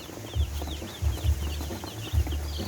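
Broiler chickens cluck in a group, with soft repeated low clucks and some higher chirps over a steady background murmur of the flock, close by and with no talking.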